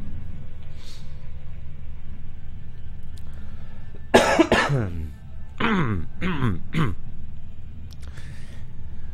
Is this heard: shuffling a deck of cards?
no